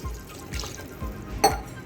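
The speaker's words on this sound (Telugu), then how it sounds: "ఇదిగోండి వాటర్ పోసేస్తున్నాం చూడండి" Water pours into a pot of cooking gongura leaves and dried prawns in a few short splashing gushes, with a louder burst near the end, against a quiet kitchen background.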